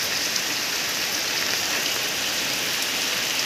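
Heavy rain pours steadily in Digha, a dense, even hiss of drops striking surfaces that stays loud and continuous throughout, with no voices.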